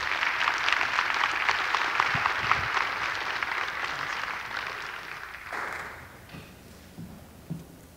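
An audience at an academic philosophy-of-biology lecture applauds to welcome the next speaker, dense steady clapping that gradually thins out, with a few scattered claps and thumps trailing at the end.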